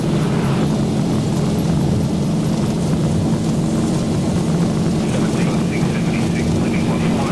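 Airliner jet engines spooling at takeoff thrust in X-Plane 12's Zibo mod: a loud, steady broadband roar with a low rumble that holds throughout, while voices talk over it.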